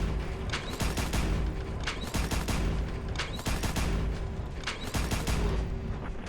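Rapid energy-weapon shots from the Discharger laser pistol in Fallout 4, a steady string of loud, close bursts repeating roughly every second over a dense, continuous background of game noise.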